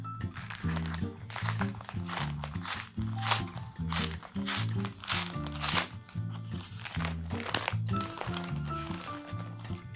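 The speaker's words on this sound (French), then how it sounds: "j'ai reçu un paquet, donc on va l'ouvrir ensemble" A received parcel being opened by hand, with repeated close crinkling, crunching and tearing of packaging in an uneven rhythm and a low voice underneath.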